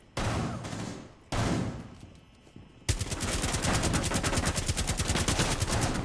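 Gunfire in Rainbow Six Siege on PS4: two short bursts of close, loud rifle fire, then a long sustained rapid automatic volley of dense rhythmic shots.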